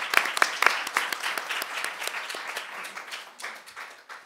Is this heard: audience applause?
yes